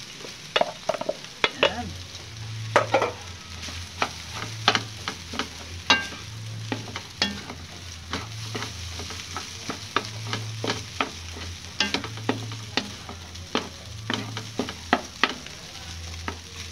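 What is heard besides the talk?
rice being stir-fried with cabbage in a pan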